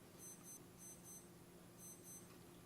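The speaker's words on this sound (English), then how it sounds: "It's an alarm of some kind." An alarm in a room that goes off at midnight, giving quiet high-pitched electronic beeps in two short bursts, with a sharp louder blip at the very end.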